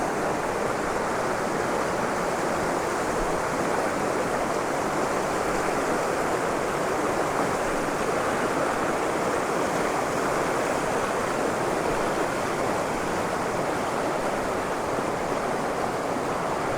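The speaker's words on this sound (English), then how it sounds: "I'm here at a waterfall about 3-4 miles from Conchar, and it's quite amazing because the river is seriously swollen after the flooding" A waterfall on a river swollen after flooding roars in a dense, constant rush of falling water, loud and close with no pauses or voices.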